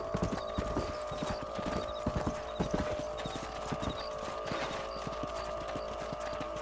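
Horse hooves clip-clop steadily at a trot in the video game Red Dead Redemption, loud and continuous over an outdoor ambience with faint mechanical jingling.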